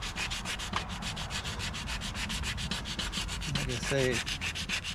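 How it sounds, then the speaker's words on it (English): Someone hand-sands a cracked steering wheel from a 1955 Triumph TR2 with quick, even back-and-forth rubbing strokes, close and continuous, while someone briefly speaks near the end. "I've probably so far spent about a half an hour sanding on this thing"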